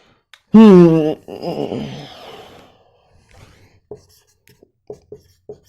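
A marker or chalk taps and scratches on a board in short, sparse strokes, faint and close, following a brief loud vocal wail and some murmuring at the start.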